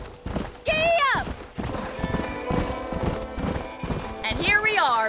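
Galloping horse hooves in Red Dead Redemption clop in a quick steady rhythm, joined by two loud neighs and a character's voice speaking over the ride.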